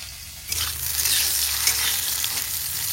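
Banana blossom sizzles steadily as it fries in a pan for a vegetable dish, the bright hiss swelling after a short quiet start and holding loud and close, with some stirring and no talking.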